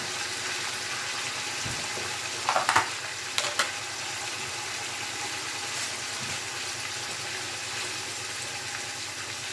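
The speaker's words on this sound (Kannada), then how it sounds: "ಈರುಳ್ಳಿ ಚೆನ್ನಾಗಿ ಫ್ರೈ ಆಗಿದೆ ಈಗ ಪುದೀನ ಹಾಕೊಂಡ್ಬಿಡೋಣ" Onions frying with fresh mint leaves in oil in a pan for Hyderabadi biryani, a constant close hiss of sizzling broken by a few brief clatters of a spoon.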